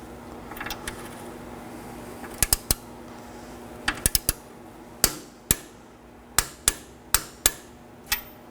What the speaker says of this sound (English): We're going to snug it down, then torque it.